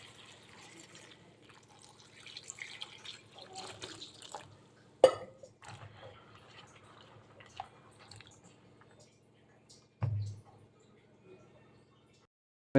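Lentils, vegetables and tomato being washed with water in a kitchen: soft sloshing and dripping with a few louder splashes and knocks, close by, under quiet background sound.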